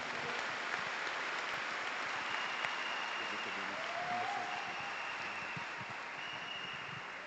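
Church congregation applauding, a dense, steady wash of many hands clapping together that holds throughout and eases slightly toward the end.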